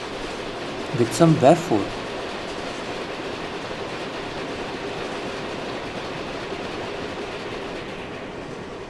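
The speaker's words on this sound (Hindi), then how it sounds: "And I guess some train is approaching towards us." A Janata Express train in an Indian train simulator game rolls past with steady rumbling wheel noise, a brief louder burst of clanking and a horn-like tone early on, while someone talks over it.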